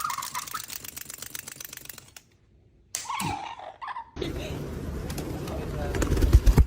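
Pigeons coo and call at a pigeon tower, the bird sounds fairly close and mixed with other noises, brief busy bursts and a louder stretch of background activity.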